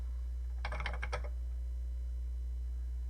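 Typing on an MSX computer keyboard: a quick cluster of several crisp keystrokes lasting about half a second, close and clear over a steady low hum, then quiet.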